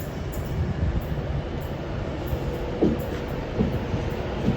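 A Class 390 train bound for Euston runs through Carlisle station, a continuous rumbling roll with faint rhythmic wheel clicks and a few light squeaks, moderately close.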